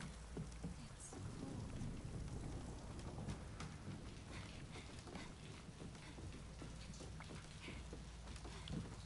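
Steady rain with rolling thunder in the Fatal Frame 2 horror game, a constant dense hiss of rainfall with low rumbles underneath, fairly quiet and unbroken, no speech.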